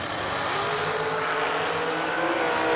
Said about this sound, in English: Newport in his dragster on the tower side.